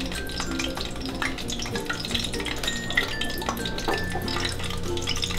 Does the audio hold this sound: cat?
no